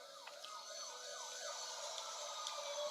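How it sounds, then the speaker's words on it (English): Distant emergency sirens wail in a narrated horror story, several rising and falling sweeps repeating steadily at a faint level with no voice over them. "A distant whir of sirens"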